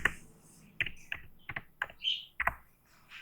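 Keys on a computer keyboard tapped in short, separate bursts of a few clicks each, close and clear, with no talking.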